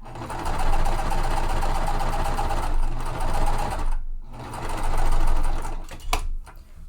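A sewing machine stitching pieces of a quilt with many triangles, a loud, steady rapid whirring run that pauses briefly near the end of the first burst, then resumes and stops, followed by a few clicks, with no talking.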